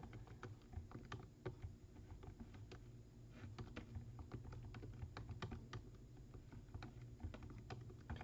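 Quiet, steady typing on a computer keyboard, with a run of light, irregular key clicks and no voices.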